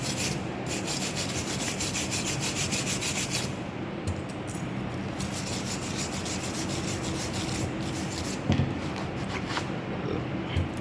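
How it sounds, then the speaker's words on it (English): A wire brush scrubs hard and continuously across a corner weld joint, a loud, dense, even scratching that runs throughout with only slight changes in stroke. "Next, finally cleaning the wire brush."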